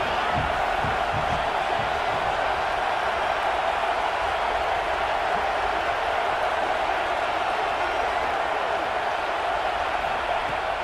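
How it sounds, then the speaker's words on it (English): In a football video game on fourth down, a stadium crowd roars in a steady, unbroken wash of cheering and noise that holds at the same level throughout. "Fourth down, and this crowd trying to help this defense rise to the occasion."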